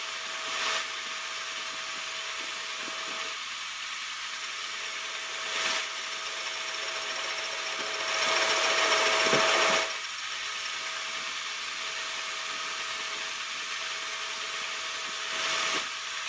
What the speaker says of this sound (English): drilling out a relief for the chips